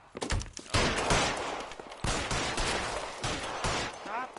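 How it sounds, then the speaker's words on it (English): L.A. Noire gunfire cracks out in rapid bursts, loud and close, with short pauses between volleys and faint voices underneath. "Stop fucking shooting at him"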